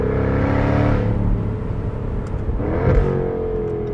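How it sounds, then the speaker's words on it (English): A 2021 Jaguar F-Type R AWD convertible's V8 exhaust drones steadily while driving at moderate revs, then rises briefly in a quick rev near the end, loud and close with no talk. "You're not hammering it all the time to listen to that V8."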